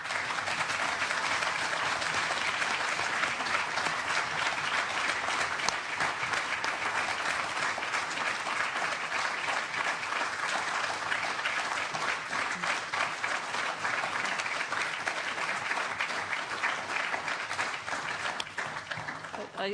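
Loud, sustained applause from a room full of people fills a European Parliament LIBE committee hearing on the NSA spying scandal, a dense unbroken clatter of clapping that lasts throughout and only eases slightly at the end.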